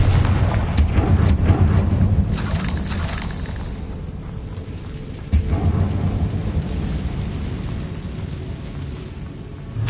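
A fiery blasting-spell explosion in the Hogwarts Legacy video game produces a loud, sustained rumbling roar with crackling debris and a sharp second impact partway through.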